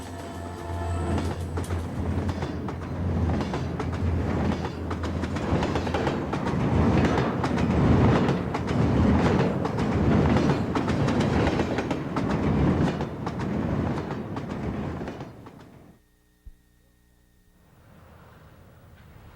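A Susquehanna railroad freight train rumbles past with loud, steady clickety-clack of wheels on rails, building and holding for about fifteen seconds before dropping away abruptly to quiet.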